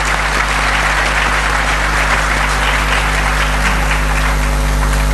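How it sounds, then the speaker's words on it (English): A crowd claps steadily and loudly for several seconds, a dense, even wash of applause with no voices standing out. "Please, a round of applause."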